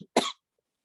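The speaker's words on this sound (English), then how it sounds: "I have a really bad allergy cough that always comes about when the air condition comes on or the heater comes on" A single short, sharp allergy cough bursts out close by, then silence.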